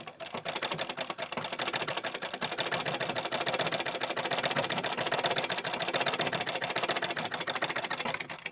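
A sewing machine stitches a blouse with a fast, even mechanical rattle that starts up and runs steadily at close range, alone without talk.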